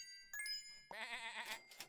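A sheep in the video game Super Auto Pets gives a short, clear bleat after a soft chime, close and alone over near silence.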